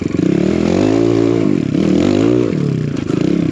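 A 4-stroke enduro motorcycle rides through snow, its engine loud and close, revving and bogging in long surges with brief throttle dips, alone without talk.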